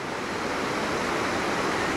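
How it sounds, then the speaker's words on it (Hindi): Rishi Ganga waterfall pouring down a mountainside near Badrinath, a steady dense roar of rushing water, loud and unbroken, with no voices. "सामने जो पहाड़ से गिर रही है जल वो ऋषि गंगा है।"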